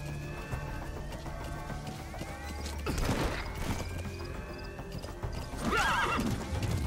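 Hooves clop steadily beneath a droning background in Metal Gear Solid V, punctuated by a thudding impact mid-way and a loud, quavering horse whinny near the end.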